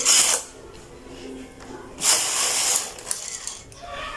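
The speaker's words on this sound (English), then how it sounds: "And then I'm going to knit one row to the other side" Knitting machine carriage pushed across the needle bed to knit one row of a bralette, giving two short whooshing, ratcheting mechanical sweeps close by, one at the start and a longer one about two seconds later, with quiet clicks between.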